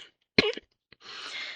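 A woman coughs once, a short harsh throat-clearing burst up close, followed after a quiet gap by a breathy exhale or rustle, with no talking.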